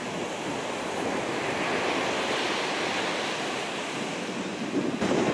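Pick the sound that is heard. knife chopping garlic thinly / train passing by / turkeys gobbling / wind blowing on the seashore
wind blowing on the seashore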